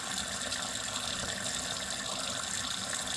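Hot washing-up water runs steadily from a kitchen tap, a close, loud, even gushing hiss that stays constant throughout with no talk.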